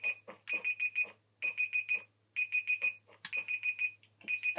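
A digital timer alarm beeps in rapid bursts of four, repeating in regular groups with short pauses, clear and fairly close in a quiet room with faint background hum, during a Minecraft statue quick-build session.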